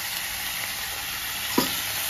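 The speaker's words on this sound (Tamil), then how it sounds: "தேவையான உப்பு போட்டு அரைச்ச மசாலா ஊற்றும்." Ground masala poured into a pan of frying sweet potato, a steady loud sizzle throughout with one brief soft thump near the end.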